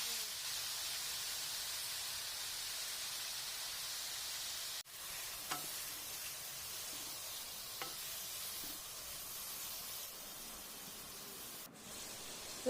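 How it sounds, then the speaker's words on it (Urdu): Eggplant slices fry in leftover ghee in a village kitchen pan, giving a steady, even hiss of sizzling with a few faint clicks of utensils, close and moderately quiet, with no talk. "باقی بچے ہوئے گھی میں ہم لوگ بینگن فرائی کر لیں گے"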